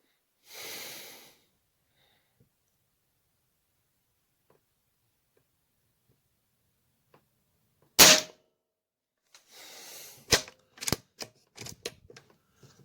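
A Hatsan Flashpup .25 air rifle firing a JSB pellet gives one sharp, loud, close crack near the middle. Breathy rustling comes before it, and a few lighter clicks and handling noises follow.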